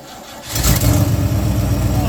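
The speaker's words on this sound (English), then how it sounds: "we'll roll the engine over, and if I got my battery cable hooked on decent, it should fire up" An old Ford F100 truck engine cranks briefly, then fires and catches, settling into a loud, rough rumbling run up close.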